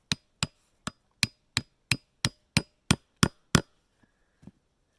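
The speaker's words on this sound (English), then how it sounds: "So let's pound the middle one in here." Hand-cut wooden plank pounded into a joint hole on a bushcraft table in the mountains: eleven sharp, evenly spaced hammer strikes, loud and close, followed by a brief pause and two fainter taps.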